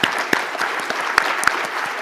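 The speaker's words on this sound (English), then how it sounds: "Big round of applause for our panelists" Audience applause for conference panelists, dense steady clapping from a crowd with a few sharp louder claps standing out.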